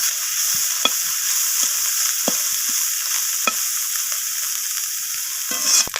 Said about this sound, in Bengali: এইভাবে নাড়াচাড়া করে মাছটাকে সময় নিয়ে একটু ভেজে নিতে হবে।